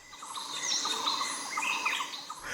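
Greater racket-tailed drongo calling steadily with bright whistles, warbles and metallic clicks, a busy continuous stream of varied notes up close, with faint insect buzz beneath and no talk.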